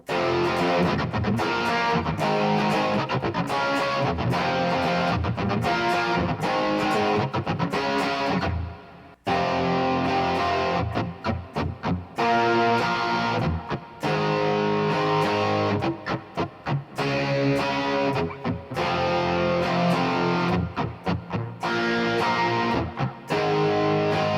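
A heavily distorted electric guitar, played through a Boss DS-1 distortion pedal, plays thick, driving grunge chords continuously, with a brief pause partway through.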